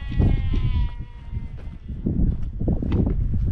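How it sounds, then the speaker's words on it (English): Several sheep bleat nearby, overlapping calls rising and falling over a low rumble of wind or movement outdoors. "Sheep everywhere."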